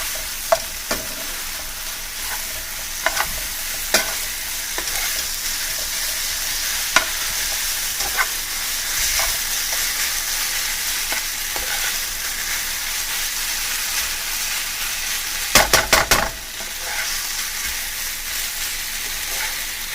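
Vegetable lo mein noodles are stir-fried in sauce in a hot pan. A loud, steady sizzle runs throughout, broken by scattered utensil taps and a brief clattering burst near the end.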